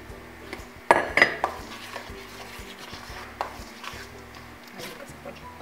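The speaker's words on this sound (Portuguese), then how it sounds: "Aqui nós vamos misturar. Como a massa tá ficando bonita." Whole wheat bread dough being mixed in a bowl, with a few sharp knocks and clatters of utensil against bowl early on, then softer scraping and working under a steady low hum.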